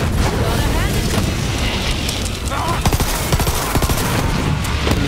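Sustained rapid gunfire from shooting an enemy in the video game Borderlands 3, loud and continuous with dense bursts of shots, while players talk over it.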